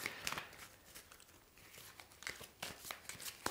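A deck of oracle cards is shuffled in uneven bursts of papery rustling and soft slapping, close by and fairly quiet, with no talking.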